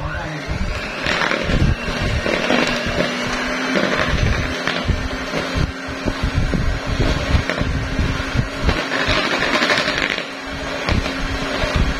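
An electric mixer runs continuously, a steady whirring motor hum with rattling and clattering from the beaters in the bowl, loud and close throughout.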